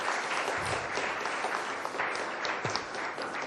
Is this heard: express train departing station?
no